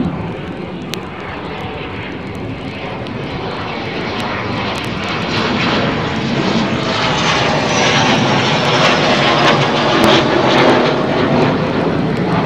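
A Eurofighter Typhoon jet roars down the runway and climbs away at RAF Coningsby, a loud sustained engine blast that builds steadily in intensity, with no talking.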